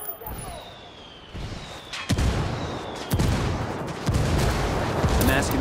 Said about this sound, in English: target for some mortar fire